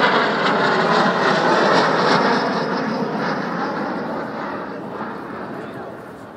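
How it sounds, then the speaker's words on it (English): An Avro Vulcan B2 jet bomber, XH558, flies a display at Cosford in 2013. Its engines make a loud, broad roar that slowly fades as the aircraft passes. "Your very own Vulcan."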